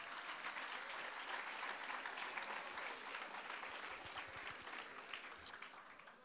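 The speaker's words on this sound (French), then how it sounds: "Vous pouvez encore applaudir François Delachaux, s'il vous plaît." An audience at a 2016 graduation ceremony applauds François Delachaux, a full, steady round of clapping from a large room that holds evenly before thinning slightly toward the end.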